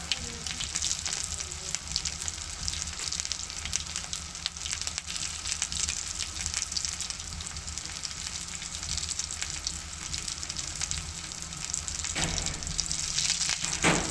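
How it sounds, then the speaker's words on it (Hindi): Potato cutlets coated in egg shallow fry in oil with a steady, close hiss and crackle that carries on throughout, with little else over it. "कटलेट्स हैं आलू के, पोटैटो कटलेट्स हैं, वो फ्राई हो रहे हैं अच्छे से।"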